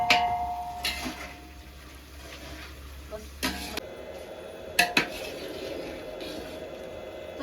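Water poured from washed rice into a pot of browned chicken cooking in ghee for chicken pulao, with clattering pots and utensils, a brief splash and sizzle, and scraping as it is stirred, close and moderately loud.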